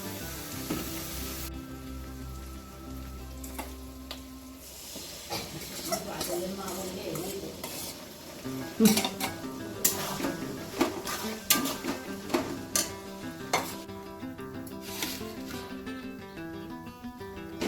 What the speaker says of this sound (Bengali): ক্যাপসিকামটা দিয়ে সামান্য একটু নাড়াচাড়া করে নেব